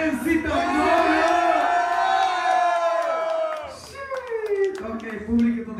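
Crowd at a freestyle rap battle in Varna roaring and whooping loudly, voices swelling into a sustained shout, dipping briefly, then breaking into scattered cheers and yells with some clapping.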